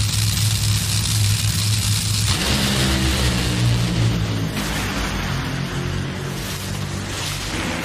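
Top Fuel dragsters thunder through a qualifying run at a drag race, a dense, loud, roaring engine blast that fills the whole span, shifting in tone partway as the cars scream down the strip.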